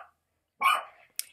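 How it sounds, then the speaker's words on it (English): A dog barks indoors during a grooming session: one sharp, close bark after a brief quiet pause, then a short high yip. "That's my dog, Belle, barking at nothing"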